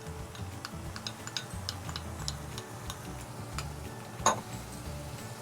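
Chopped garlic and ginger fry in a pan for Kerala beef puffs. Soft, steady sizzling is broken by scattered ticking pops and one louder crackle near the end.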